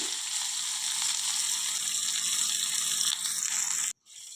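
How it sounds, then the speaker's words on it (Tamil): Loud, steady sizzling and crackling of spices tempering in hot coconut oil, continuous hiss that cuts off abruptly near the end. "அதனால் தேங்காய் எண்ணெயில் தாளிக்கிறேன்."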